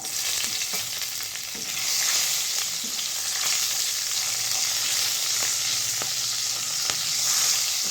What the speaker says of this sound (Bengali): তেলটা গরম হয়ে গেছে গোটা কয়েক আমি এখানে কালো জিরে দিয়ে দিলাম আর দিয়ে দিলাম পাঁচ সাতটা কাঁচা লঙ্কা